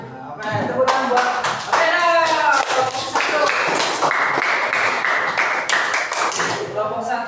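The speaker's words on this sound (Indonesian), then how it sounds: "Oke, tepuk tangan buat" Students in a grade 6 primary school maths class clap their hands together, a dense, steady clatter lasting several seconds with children's voices and talk mixed through it.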